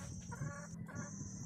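A village chicken near an egg cage clucks softly at close range, with a few short, faint clucks and calls against quiet background noise.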